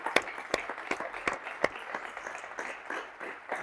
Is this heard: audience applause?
yes